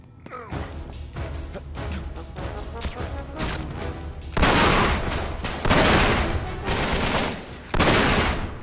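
Heavy gunfire in Uncharted 3: Drake's Deception on PS4: bursts of close, loud shots and a crackling exchange that grows into harsher, louder volleys in the second half, with brief pauses between them.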